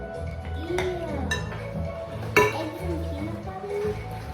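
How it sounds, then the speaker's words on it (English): Egg being mixed into peanut butter in a bowl for peanut butter cookies, with clinking of a utensil against the dish and a few sharper knocks, under nearby voices. "We're gonna mix the egg with the peanut butter."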